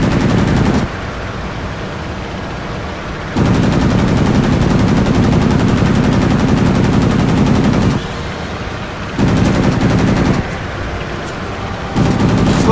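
Airplane machine guns in World of Warplanes hammer out long, continuous bursts, loud and close, each stretch of rapid fire cutting off into a brief lull of engine drone before resuming, with no voices over it.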